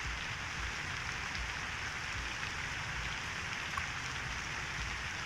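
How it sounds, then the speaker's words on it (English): Steady rain falls in the Cities Skylines 2 city-building game, a dense, even hiss of drops with a low rumble that carries on unbroken throughout. "Non-stop rain."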